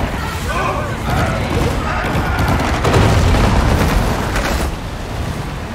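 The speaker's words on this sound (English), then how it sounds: "Are they throwing bombs at me now?" Dense, sustained bursts of explosions and gunfire-like booms in the shark game Maneater, a continuous loud barrage of thuds and blasts with a voice talking over it.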